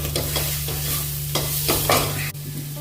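A spoon stirs a spice mix of turmeric and salt in a hot pan, with a steady sizzle of frying and periodic scraping strokes up close, and no talking.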